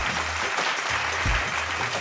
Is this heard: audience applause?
yes